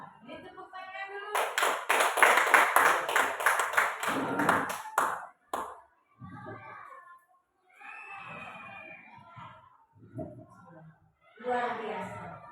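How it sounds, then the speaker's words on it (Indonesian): Brief burst of sharp audience hand clapping in a school training session lasting a few seconds, then voices talking in the gaps afterward. "Tepuk tangan dulu."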